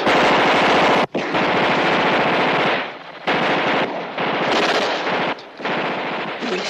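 Gunfire in an action movie scene: dense, loud bursts of rapid machine-gun fire run almost continuously, broken by a couple of brief gaps, with heavy automatic shots carrying throughout.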